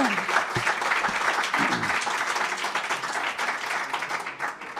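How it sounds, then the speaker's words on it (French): Audience applause fills the room at a public information session on a street redevelopment, steady dense clapping for several seconds that fades slightly toward the end, with a few brief voices at the start. "On vous applaudit pour cette belle présentation."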